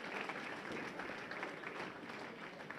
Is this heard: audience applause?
yes